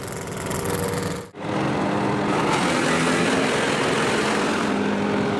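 A 20 HP wood chipper engine runs steadily and loudly for the whole stretch, a constant mechanical drone with one brief dip in the first moments, no voices.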